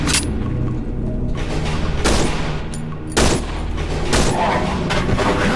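Loud, heavy gunshots from a powerful firearm in the horror game Cry of Fear, a few booming blasts spaced a second or so apart over a dark, droning background.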